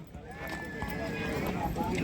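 A Kutch mare at a horse show in Wankaner, her hooves clip-clopping in a steady rhythm beneath continuous crowd noise and people talking nearby.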